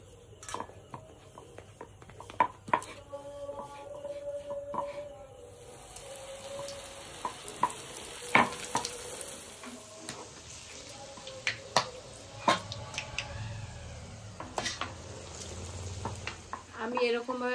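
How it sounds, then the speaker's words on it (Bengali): A chicken paratha fries in a pan, browning to a reddish colour. A steady, close sizzle runs throughout with occasional clinks and stirring noises, and a voice is faintly present at times. "আমি এরকম ভাবে প্রতিটা পরোটা এভাবে ভেজে নেব, এরকম লাল লাল করে।"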